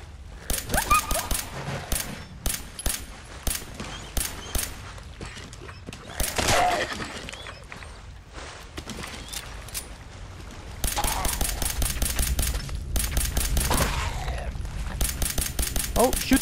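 Gunfire in the video game Fallout 4 while fighting ghouls, with repeated single shots and bursts through the clip and heavier sustained firing in the last seconds, under a speaking voice.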